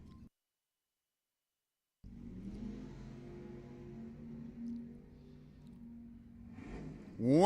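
A 1967 Ranchero and a Malibu sit near the line in an ET final at Lebanon Valley Dragway. After a brief silence, a steady low engine rumble holds, then swells into a sharp rising rev as the cars launch.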